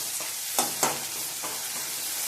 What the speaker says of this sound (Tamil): இப்போ தக்காளியும் நல்லா வதங்கிருச்சு